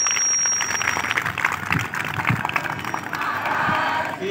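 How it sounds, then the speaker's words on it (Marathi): A crowd at a devotional gathering honouring Gajanan Maharaj claps loudly and continuously, dense applause with some cheering, filling the whole stretch close by. "जोरान टाळ्या वाजवा."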